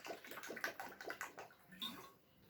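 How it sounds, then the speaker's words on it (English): Water pours into a drinking glass in a classroom-style demonstration, a close, steady splashing and gurgling that fills about two seconds before tapering off into near quiet. "again I'm taking water in another glass."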